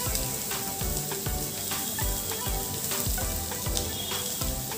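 Grated carrot and finely chopped capsicum fry in a pan for a veg momo filling, sizzling continuously with crackling pops and a few soft stirring scrapes, no voices over it.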